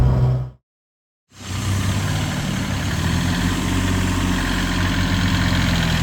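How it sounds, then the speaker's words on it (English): A small tractor's engine idles steadily with a low rumble at close range, after a brief moment of silence at the start. "It's just a baby tractor."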